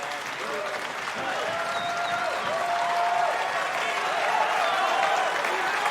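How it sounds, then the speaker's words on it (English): Crowd at a PFL Europe mixed martial arts event in Berlin applauding as a fighter gets back to his feet, steady sustained clapping and cheering from a large arena audience with a commentator's voice running underneath. "Berlin crowd showing their appreciation for Sebastian Santana-Guedes getting back to his feet"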